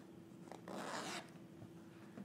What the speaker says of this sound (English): So when you open up your zipper,